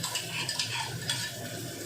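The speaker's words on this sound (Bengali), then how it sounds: "একদম হালকাভাবে পেঁয়াজ কুচি আর আদাটা একটুখানি ভাজা ভাজা হোক।" Chopped onion and grated ginger fry in a pan while being stirred, giving a steady close sizzle with soft scraping and stirring sounds, no talking.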